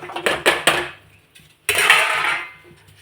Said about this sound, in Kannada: ಹಚ್ಚಿಟ್ಕೊಂಡಿರೋಂಥ ಬೆಂಡೆಕಾಯಿನ ಹಾಕ್ಕೊಳ್ಳೋಣ.